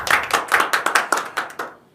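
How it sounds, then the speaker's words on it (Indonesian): A small podcast audience claps in a quick, rhythmic run of about ten distinct claps, steady at first and then fading out, with no talking over it. "Tepuk tangan dulu dong."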